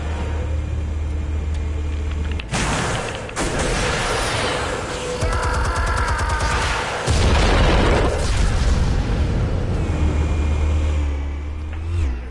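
Explosives going off in the Batman Telltale video game: a loud broadband boom around the three-second mark, then sustained rumbling blasts and debris noise over a heavy low drone, with a fresh surge near seven seconds.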